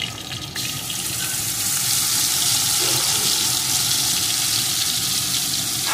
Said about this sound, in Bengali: আর এই মিক্সিং জারটা ধুয়ে দিয়ে দেবো একটু জল